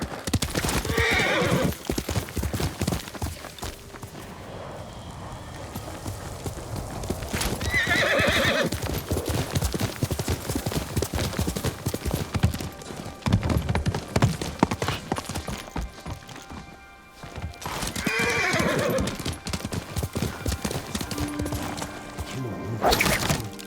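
Hooves clip-clop at a steady gallop for much of the stretch, broken by loud horse whinnies and neighs, with a busy game soundtrack underneath, from the video game Ghost of Tsushima.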